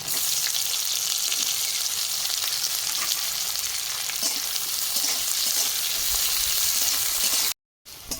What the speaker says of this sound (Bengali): কালো জিরে পেঁয়াজ কুচি দিয়ে দেবো